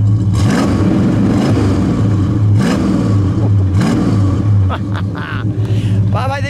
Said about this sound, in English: Bob, give it a rev.